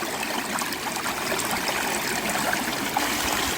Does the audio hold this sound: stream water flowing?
yes